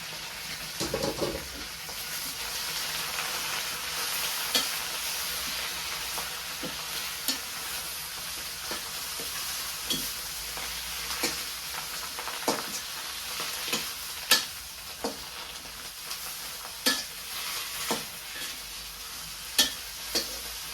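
Fish stir-fries with pipul leaves in a pan, giving a steady hiss of sizzling oil broken by scattered scrapes and clinks of stirring, close and continuous with no talk.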